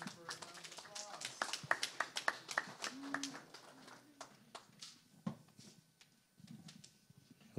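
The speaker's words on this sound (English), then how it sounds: "Let's give Jennifer a round of applause." A modest audience at a historic preservation town hall in a Detroit activity center claps for a speaker, sparse, fairly distant hand claps under talking, thinning out as the clip goes on.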